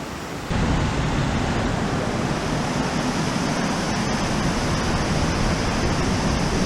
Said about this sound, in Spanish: Y si seguimos subiendo, llegamos a la cascada.